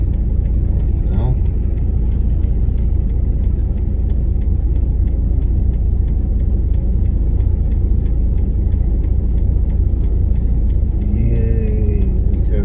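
Car driving at night in Myślenice, a constant loud road and engine drone with a steady ticking over the top, people talking through it.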